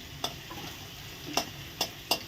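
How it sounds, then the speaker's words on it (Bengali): Cumin seeds tempering in hot oil, pushed aside from potatoes in a pan, give a faint, steady sizzle broken by a few sharp scraping or clinking stir strokes. "আলু সরিয়ে জিরাটা একটু ফোড়নে দিয়ে দিলাম"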